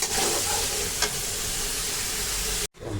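Beef tripe sautéing in spices in a hot pan gives a loud, dense sizzle with stirring throughout, close by, ending in a sudden brief cutoff.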